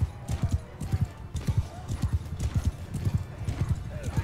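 Horse hooves in Mount & Blade II Bannerlord clop in quick, uneven, repeated beats throughout, fairly close and prominent, with a possible neigh mixed in and some faint battle background.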